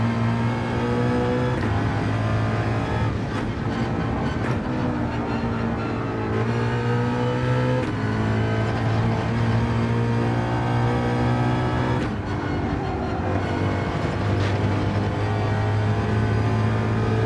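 Sustained, loud car engine note from a Gran Turismo 7 race car on a track, holding steady harmonic drones that shift pitch with gear changes and throttle, continuous for the whole stretch with no talk.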